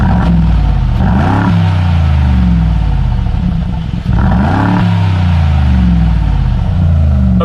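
A 2019 Mercedes-AMG G63 engine running at steady revs in comfort mode, a deep droning rumble with a couple of brief rises in pitch, loud and close.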